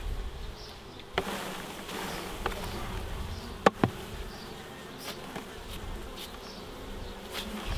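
Bees buzz in a dense, continuous drone as they are shaken from a frame into a nucleus hive, with a few sharp knocks and thumps standing out over the swarm noise.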